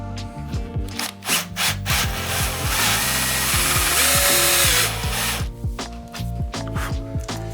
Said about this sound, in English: Now, we only need to countersink them 5 or 6 millimeters